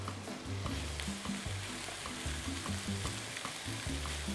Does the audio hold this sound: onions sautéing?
yes